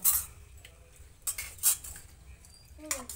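Spoons clink against plates and bowls as children eat at a family harvest festival meal, a few sharp scattered metallic taps over a quiet room background.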